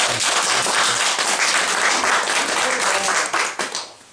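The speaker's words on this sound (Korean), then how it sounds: "박수 한번 부탁드리겠습니다" An audience on a Korean literary excursion claps together in a dense burst of applause that fades out near the end.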